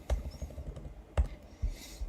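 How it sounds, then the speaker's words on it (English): A computer keyboard at a desk gives a few sparse, soft taps and clicks, separated by short pauses in a quiet room. "Okay, it says there, just start typing."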